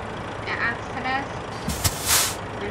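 A Mercedes Actros truck idles quietly while a voice speaks nearby, then a sharp hiss of air brake release bursts out near the end, loud and close.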